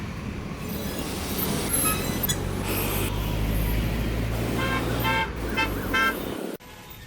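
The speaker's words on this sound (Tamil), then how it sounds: "அதுதான் பெங்களூரோட டிராஃபிக்." Busy Bangalore road traffic: a steady roar of engines with repeated vehicle horns honking near and far, loud throughout, before the sound cuts off abruptly near the end.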